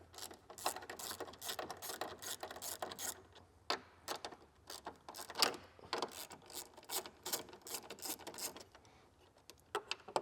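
A 10mm wrench loosens radiator mount bolts on an S650 Ford Mustang, producing quick bursts of fine ratcheting clicks separated by short pauses, close and fairly quiet, with no talking.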